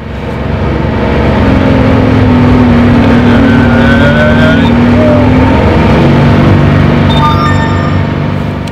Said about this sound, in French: dedans on a un volume du bruit moteur et de la route pas loin de 90 décibels